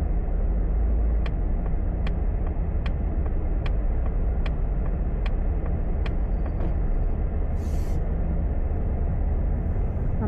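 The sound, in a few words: road traffic during a night drive in Dubai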